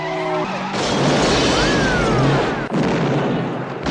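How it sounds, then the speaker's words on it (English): A car explodes in an action sequence from Lethal Weapon 2, a loud roaring blast with skidding and crashing debris that sustains for several seconds, followed by a sharp second impact and a lingering rumble. "Don't worry how that car blew up, by the way."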